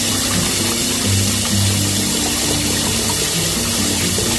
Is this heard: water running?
yes